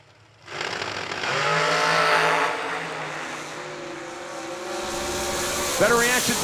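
A supercharged top-fuel-style dragster in the M&M chassis launches down the drag strip at a New Year Nationals drag race. Its engine bursts into a loud, roaring blast that swells and holds steady, then shifts pitch near the end.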